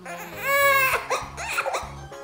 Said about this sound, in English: and then she cried